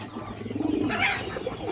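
A male pigeon coos in soft, rolling, repeated calls, close and clear against a quiet room, with no voices over it.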